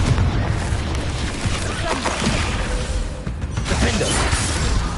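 A Confringo explosive spell going off in the Hogwarts Legacy video game, with rumbling booms and crashing debris over a dense game soundscape, loud and sustained for several seconds.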